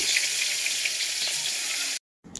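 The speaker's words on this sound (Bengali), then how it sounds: "এদিকে আমি গরম গরম মাছ ভাজতেছি" Fish frying in a pan gives a continuous bright sizzle for about two seconds, then cuts to silence before the sizzle briefly returns.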